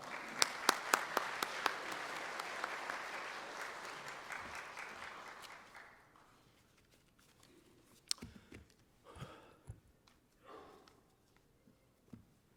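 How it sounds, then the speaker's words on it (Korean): A church congregation applauds to welcome the pastor at a Sunday service, a dense wash of clapping for about six seconds that then dies away into faint scattered sounds and a few isolated claps. "우리 목사님 나오실 때에 큰 박수로 모시도록 하겠습니다"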